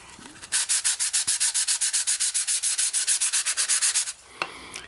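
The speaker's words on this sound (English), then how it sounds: "if your sandpaper does start to load up, you can always just get a new piece or move to a different spot" Sandpaper rubs back and forth over a 3D printed plastic part in quick, even strokes, about two dozen rasping passes close up, then slows to a few scattered scrapes.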